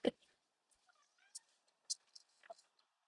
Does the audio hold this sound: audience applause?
no